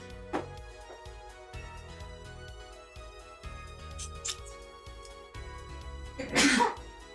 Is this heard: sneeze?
yes